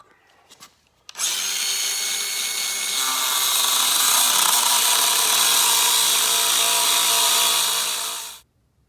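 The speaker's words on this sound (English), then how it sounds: "So we ground that down, cut her off" Power tool grinding down and cutting off a metal part on a Harley-Davidson Sportster motorcycle, a steady loud whine running continuously for about seven seconds before cutting out, with no talk.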